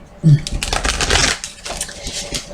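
Tarot cards being shuffled by hand, a dense rustling flutter that swells and fades over a couple of seconds, close and fairly loud, with a voice speaking over it.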